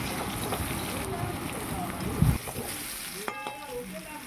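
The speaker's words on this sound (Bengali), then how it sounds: "একটু হলুদ দিয়ে আলুটাকে লাল করে ভেজে নেব।" Potato pieces fry in hot oil with turmeric in a kadai, giving a close, steady sizzle broken by scraping stirs and a clunk of the spatula, with a voice heard over the cooking.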